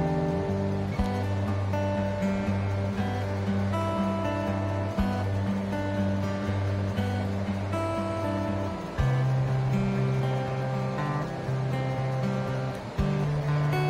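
Raw banana kofta balls frying in oil, a continuous hissing sizzle at steady loudness with a low tonal hum underneath and a few brief clicks and shifts along the way.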